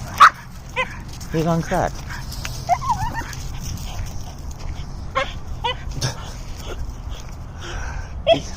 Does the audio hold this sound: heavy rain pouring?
no